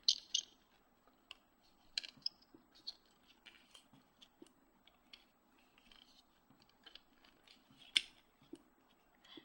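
Small scissors snipping off Rainbow Loom rubber bands, a few crisp close snips and light plastic clicks scattered over quiet handling, with no voices.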